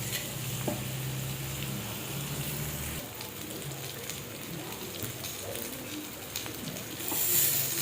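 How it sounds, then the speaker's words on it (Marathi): Chilapi fish shallow-fries on a flat tava, a steady close sizzle that thins slightly partway through and carries on without speech. "आपण शालो फ्राय आपलं डीप फ्राय नाही करणार आहे, फक्त आपण तव्यावरती फ्राय करणार आहे"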